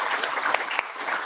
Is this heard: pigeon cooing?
no